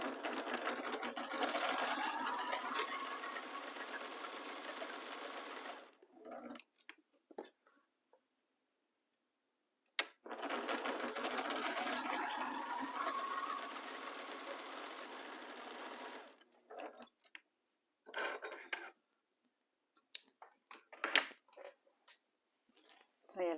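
A sewing machine stitches fabric squares together in two long steady runs, each several seconds, separated by pauses with light handling clicks and soft movement noises.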